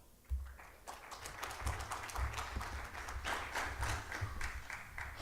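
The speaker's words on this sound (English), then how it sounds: "So give him a round of applause." Conference crowd on the main stage at Devconnect Istanbul applauds an incoming speaker, a steady wash of clapping heard from a distance at low level, with a low rhythmic backing beat underneath.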